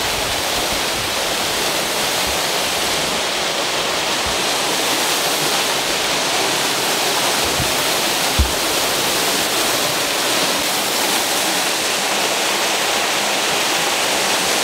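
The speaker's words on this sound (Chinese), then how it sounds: "这里就是今天的目的地了，这有一个瀑布，小瀑布。" A small mountain waterfall rushes continuously in a dense, loud roar of falling water, steady and close with no voices.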